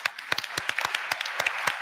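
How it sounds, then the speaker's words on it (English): Scattered clapping from a conference audience at a plenary session, a thin round of individual claps with uneven rhythm, fairly faint and brief. "Big round of applause"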